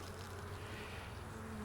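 Honey bees hum steadily inside an opened hive troubled by small hive beetles, a faint, continuous low drone with no talking over it.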